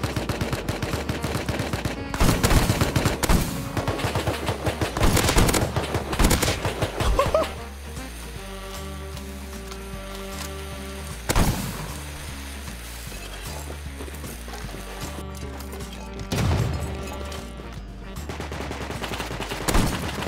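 A new shotgun fires in a video game: loud, sharp blasts in irregular bursts, some rapid and clustered, with mechanical clicks and ratcheting between shots and occasional talk underneath.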